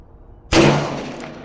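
A single loud shot from a forty-year-old Ruger GP100 revolver firing a .357 round in single action: one sharp, close blast with a ringing, decaying tail that fades over about a second.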